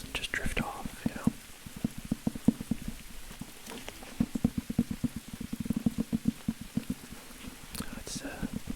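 Rain taps in quick irregular drops on a nearby surface, a soft crackling patter that comes and goes in clusters under a man's low whispering, which drifts in and out.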